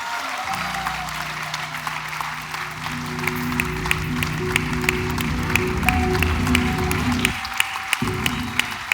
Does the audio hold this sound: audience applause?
yes